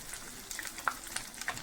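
Fish fries in hot oil, a soft steady sizzle with scattered small crackles and pops, fairly faint and close, with no voices.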